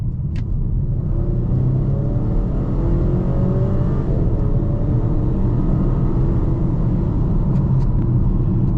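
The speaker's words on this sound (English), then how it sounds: "Pretty impressive acceleration from the XC40" A 2024 Volvo XC40 SUV with an 8-speed transmission accelerating hard from about 25 mph, a loud steady engine and road roar heard from inside the cabin, rising in pitch through the gears, with no talk.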